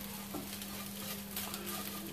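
Ten beaten eggs stirred into bacalhau à brás with red onion and potato in a pan, a soft continuous scraping and stirring with a low sizzle and a steady hum underneath.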